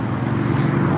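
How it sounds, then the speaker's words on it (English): Loud cars pass on a street at the northern end of the Las Vegas Strip, making a continuous close traffic roar with a steady rumbling hiss through the short stretch. "There's a lot of loud cars"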